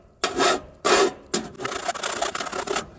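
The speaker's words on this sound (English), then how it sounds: "So just take your file here. A file is only cut on the push." A hand file is pushed across metal to take a sharp burr off a homemade tractor toolbox, giving four or five close, loud rasping strokes, each followed by a short pause, with no talking.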